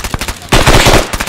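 Rapid video game gunfire bursts out close and loud, a quick automatic rattle after a brief lead-in.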